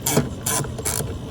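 Hand ratchet loosening bolts on a plastic carburetor of a newer Briggs & Stratton engine, three quick bursts of rapid clicking, close and clear.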